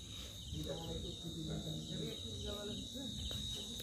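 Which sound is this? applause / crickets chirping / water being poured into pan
crickets chirping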